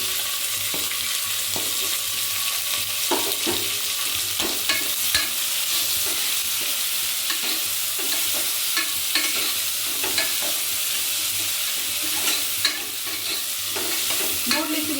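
Onion frying and being stirred in a pan with green chillies and ginger, a steady close sizzle broken by repeated scraping stirs throughout, with no talking.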